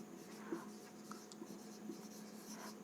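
Faint, soft scratching of writing on a board in a chemistry lecture, a few light strokes against a quiet room hum with no talking.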